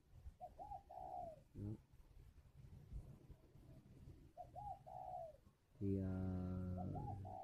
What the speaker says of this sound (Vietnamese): Đó, đấy con chim nó gáy.